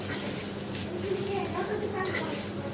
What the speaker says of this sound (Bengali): আমি অল্প একটু তেলে মাশরুমগুলোকে প্রথমে ভেজে নিব